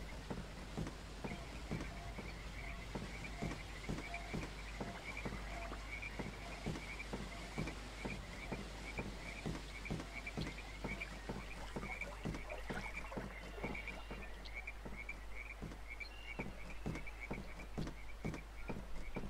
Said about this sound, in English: Nice little froggies, toadies singing for me.